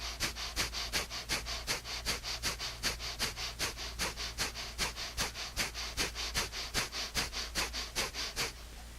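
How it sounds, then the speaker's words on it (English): Rapid yoga breath of fire taken in a back platform pose: sharp, rhythmic nasal exhalations, about three per second, close and even, over a steady low hum. "And begin a breath of fire."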